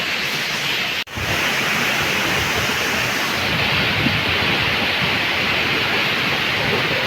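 Malinaw Falls, a waterfall near Pulang Bato Falls in Valencia, roars in a steady, dense rush of falling water that fills the whole clip, loud and continuous with one brief dropout near the start.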